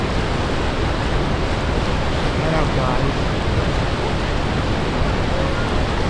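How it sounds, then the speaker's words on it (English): Thundering roar of Niagara Falls, a dense, continuous broadband rush of falling water that fills the clip at steady loudness, with brief, barely audible talk beneath it. "Waterfall right there."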